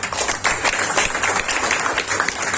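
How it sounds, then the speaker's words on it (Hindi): An audience at an event breaks into steady, close-sounding applause, dense clapping running the whole stretch over a low background hum. "सो प्लीज एक ताली हो जाए"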